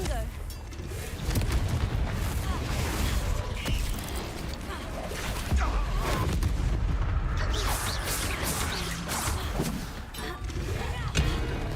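Booming blasts from the Confringo spell in Hogwarts Legacy burst repeatedly through dense, continuous game audio, with creaking, rumbling effects and a voice talking over the action.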